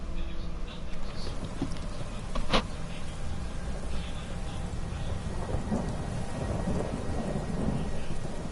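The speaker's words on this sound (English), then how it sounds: "I think this is the first time it's rained in the game." Rain and thunder in the Skyrim video game: a steady wash of rainfall with a low continuous rumble and one sharper crack partway through, and no talk over it.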